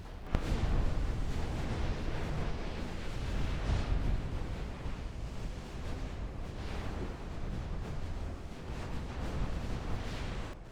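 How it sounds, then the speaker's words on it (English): Naval shells fire in a steady, dense barrage during a ship battle in Ultimate Admiral Dreadnoughts, a 1910 German campaign, with layered booms and rumbling that never let up, loud and close without talk. "There's a lot of shells being tossed my direction during this engagement."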